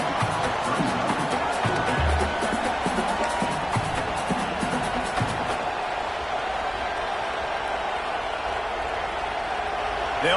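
A BYU football stadium crowd roars steadily during a field goal attempt, a dense wall of cheering and whooping with no break, loudest in the first few seconds before settling into a sustained din.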